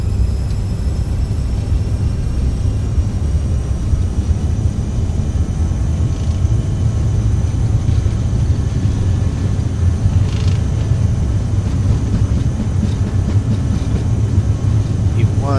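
Steady, loud jet engine roar from a CRJ 900 at takeoff thrust in a flight simulator, a continuous broadband rumble with faint tonal whine layered over it.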